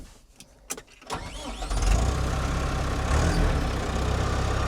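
An old tractor engine cranks with a few clattering turns, then catches at about two seconds and settles into a loud, steady low rumbling idle that runs to the end.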